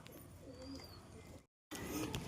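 Pigeons for sale, including a pair of pale birds, coo repeatedly at close range through low murmuring throat calls, with a brief dropout in the middle before the cooing resumes.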